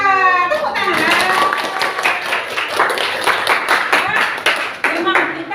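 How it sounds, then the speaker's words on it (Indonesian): A class of students clapping hands together during a lesson, a dense steady patter of many hands close by, with a teacher's voice speaking over the start. "Tepuk tangan."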